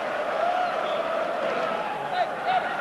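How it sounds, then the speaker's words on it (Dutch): A stadium crowd applauds and cheers a substituted player leaving the pitch at a Gent versus Club Brugge football match, a broad, steady roar under a commentator's voice. "Een orkaan van applaus voor Robert Spekker"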